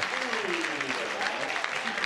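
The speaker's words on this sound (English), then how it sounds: "A lot of appreciation from the crowd." Crowd at a bouldering competition's semifinals applauds a climber's top, a dense, even patter of clapping throughout with a commentator talking over it.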